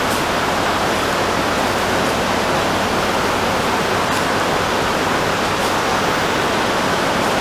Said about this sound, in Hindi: अभी इसके अंदर ये चीनी डालेंगे, 7 kg चीनी है